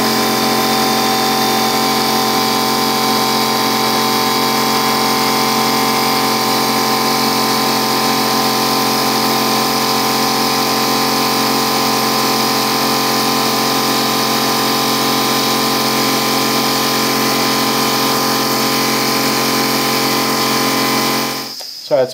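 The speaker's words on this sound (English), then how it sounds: "So that's my air compressor." An air compressor used to blow debris out of a gun magazine runs in a loud, unbroken motor drone with a steady tonal whine for about twenty seconds before cutting off abruptly.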